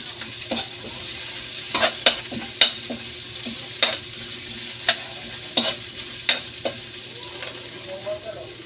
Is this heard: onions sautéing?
yes